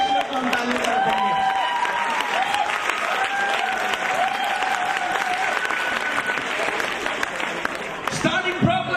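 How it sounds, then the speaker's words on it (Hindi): A church congregation claps together for the Lord, a dense sustained wave of applause filling the room, with a sung or spoken voice carrying over it and the clapping trailing off near the end. "Come on, son. Give the Lord a big clap."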